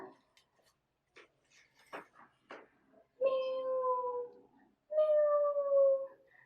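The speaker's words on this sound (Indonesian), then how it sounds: "terdengar suara eongan kucing yang sangat lemah" Two drawn-out, plaintive, weak cat meows in the second half, each about a second long, following a few soft scattered knocks and rustles.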